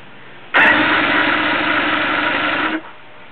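An outboard motor cranks and catches after the key is turned, with a sudden loud onset and then a steady rough running tone for about two seconds before cutting off abruptly.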